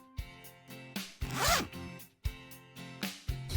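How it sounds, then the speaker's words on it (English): A hoodie zipper is pulled up in a series of quick rasping strokes, close and crisp, with one longer drawn-out zip in the middle and no talk. "pulled her zipper up to her neck"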